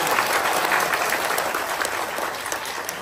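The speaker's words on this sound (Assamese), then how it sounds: "এটা হাত চাপৰি লাগে তোমালোকৰ" A small audience at a free cultural workshop in Nonoi, Assam, claps steadily to welcome a guest, a dense even patter of many hands that eases slightly toward the end.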